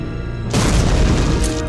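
Gunfire in the film Blade: a sudden loud boom erupts after a half-second of quieter rumble, followed by a sustained roaring, crackling blast that slowly fades.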